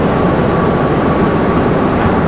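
A Doha metro station rumbles with steady, loud broadband noise from a train running through, with no clear voices over the continuous roar.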